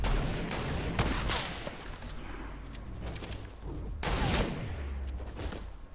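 Gunfire in the Fortnite video game, rapid volleys of shots with sharp cracks rolling into bursts of automatic fire, fairly close and continuous across the clip.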